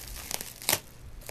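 Plastic packaging on Bomber Bucktail fishing lures crinkles sharply as it is cut open with a knife, with a few close, crisp crackles and one louder rip in a short burst.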